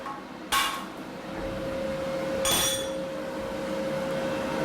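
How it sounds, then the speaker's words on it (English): Two sharp metallic taps of a hammer striking the tip of a tungsten electrode to snap it off, each a bright clink with a short ringing tail in a quiet workshop. "take a hammer or another heavy piece of steel and tap the tip of the tungsten"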